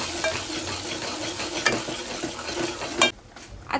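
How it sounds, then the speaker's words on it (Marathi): Cumin, curry leaves and a ground spice paste sizzle in a pan for curd curry while being stirred, with a steady crackle, occasional utensil scrapes and clinks, and the sizzle dropping abruptly near the end. "व्यवस्थित असं मिक्स करून घेऊया त्याला।"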